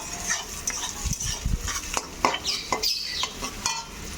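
Onions frying in a pan and being stirred, with close scraping and clinking of a utensil against the pan over a soft sizzle, no voices.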